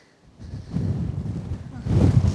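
Strong gusts buffet the microphone on the open, windswept Reykjanes Peninsula in Iceland, a rumbling low roar that swells and surges loudly, with no talk over it.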